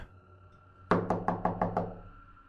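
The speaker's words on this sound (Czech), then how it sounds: "Další klepání mě přimělo vyskočit z postele." Knocking on a door: six evenly spaced, firm raps in quick succession, close and fairly loud in an otherwise quiet room.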